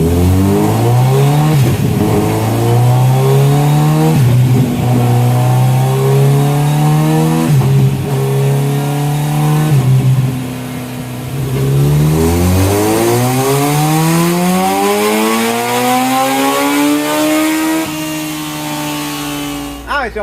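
A 2022 Kawasaki Z900RS motorcycle strapped to a dyno, revving loudly through repeated pulls, its engine note climbing steadily in pitch, dropping, then rising again in a long, close, continuous roar.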